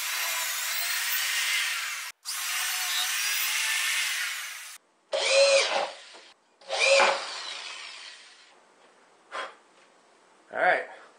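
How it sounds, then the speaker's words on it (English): A power drill driving a screw into a 1-inch wooden dowel for a DIY air cooler, two long steady whirring runs followed by several short bursts of drilling. "just drop a 1-inch dowel underneath it and screw it in"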